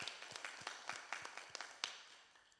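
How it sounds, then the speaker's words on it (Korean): A church congregation claps together at a Sunday worship service, giving a faint, rhythmic round of about a dozen hand claps in a steady beat that slowly fades. "다시 사신 예수님께 우리 다 같이 영광의 박수를 올려드리겠습니다."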